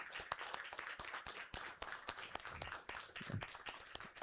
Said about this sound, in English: Can we get a round of applause for our filmmakers one last time?